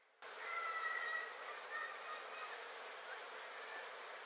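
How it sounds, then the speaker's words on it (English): Bees drone around a flowering fall-color tree at Boyce Thompson Arboretum in Superior, a soft continuous buzz that swells briefly early on, then holds steady. "Bees are all over."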